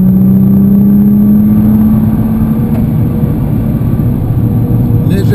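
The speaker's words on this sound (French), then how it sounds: "On est à la corde, tu écrases l'accélérateur." Car engine pulling hard under full throttle on a driving-school track session, a steady loud mid-pitched drone rising slightly, with an instructor talking over it throughout.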